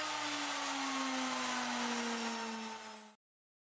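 A CNC spindle motor runs steadily at high speed, around its 8000 rpm lowest setting, giving a loud, continuous whine with sustained tonal lines. The whine holds for about three seconds, then cuts off abruptly into silence.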